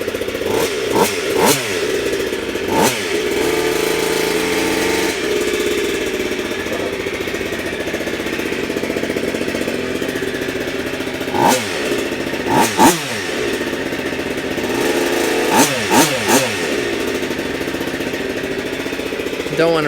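A Goped G290RC scooter engine with a Sikk Toys pipe, still being broken in and running rich, idles loudly and close, then revs up in several sharp bursts with rising whines before settling back; brief talk in between.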